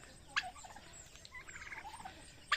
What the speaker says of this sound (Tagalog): yung mga pabo natin oh.